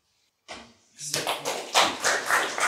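Audience applause at a French political speech, starting with a few scattered claps, then swelling into steady clapping from a crowd that grows louder toward the end.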